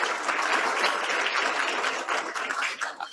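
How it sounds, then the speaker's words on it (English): An audience at a Rotary club meeting applauds the Office of the Provost of Texas A&M University: dense, continuous clapping from many hands that thins slightly toward the end. "A round of applause for the Office of the Provost of Texas A&M University"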